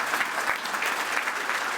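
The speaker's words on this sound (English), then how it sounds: "I want you to give them a round of applause" Audience applause for standing FFA and 4-H students at a county harvest breakfast, a brief, steady wash of many hands clapping at moderate volume.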